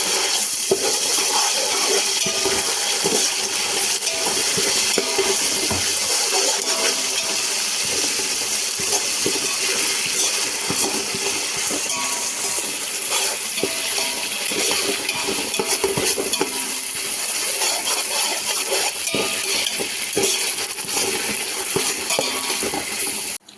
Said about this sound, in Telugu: దీంట్లో 3 టేబుల్ స్పూన్ ఆఫ్ అల్లం వెల్లుల్లి పేస్ట్ వేసుకోవాలి. వేసి ఫ్రై చేసుకోవాలి.